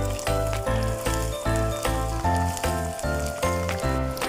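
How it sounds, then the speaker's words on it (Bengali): Chopped onions frying in a pan with whole garam masala and bay leaf, a steady loud sizzle running throughout alongside a rhythmic pulsing pattern, no voices. "এবারে পেঁয়াজ কুচিটা ভেজে নেব।"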